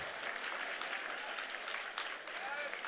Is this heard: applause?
yes